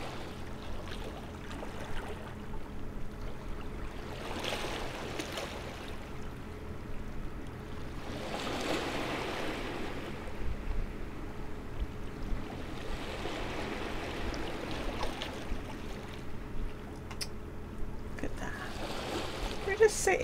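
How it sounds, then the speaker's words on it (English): Gentle sea waves in the video game Critter Cove wash in soft, recurring swells roughly every few seconds over a low steady ambient hum. "Sit here and listen to the sea."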